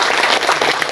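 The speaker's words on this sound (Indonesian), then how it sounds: "Tepuk tangan" A burst of dense, steady applause from a crowd, many hands clapping together at close range for about a second.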